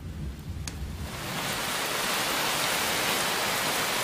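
Heavy rain starts falling during a thunderstorm, swelling within a second into a loud, steady wash of downpour that continues to the end, with no talking.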